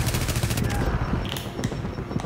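Pistol gunfire in the shooter game Tom Clancy's The Division, rapid repeated shots in a quick rhythmic burst with mechanical clatter, close and loud amid game noise and some talking.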